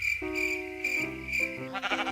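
Sheep bleat in a Minecraft game with a Wither Storm addon: a few drawn-out, wavering bleats follow one another, clear and close, with no talk.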